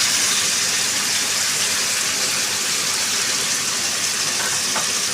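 Pork belly fries in a pan with a loud, steady, dense sizzle and crackle, close and continuous throughout, with no voices.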